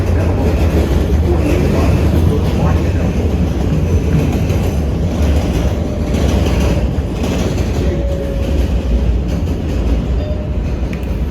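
A NYC subway 7 line train rumbles at Flushing Main Street, a steady loud roar of wheels and car noise with faint squeals, continuous for the whole stretch.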